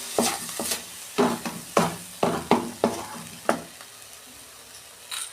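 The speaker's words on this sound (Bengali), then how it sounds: "আমি এটা নারকেলের ছাইটা মাখছি" Grated coconut filling for Bengali milk puli is stirred in a pan over low flame, with a run of distinct scraping, knocking strokes at an uneven rhythm, close and fairly loud, fading to a quieter stretch near the end.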